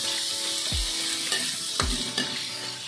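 Native chicken sautés in a frying pan with a continuous loud sizzle, punctuated every second or so by a scraping stir and a falling metallic swoosh, close up and without talking.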